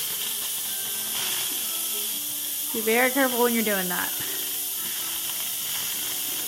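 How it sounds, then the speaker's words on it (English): An Instant Pot releases its pressure after cooking, venting steam in a loud, continuous hiss that lasts throughout, while someone speaks briefly over it. "now I'm going to press the pressure release button"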